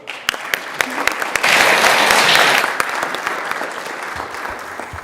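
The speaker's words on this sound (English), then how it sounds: "And now if everyone could give him a round of applause" An audience at a city council meeting applauds a councilmember, with sharp individual claps at first swelling into a fuller burst of many hands, then thinning out again, fairly close and loud.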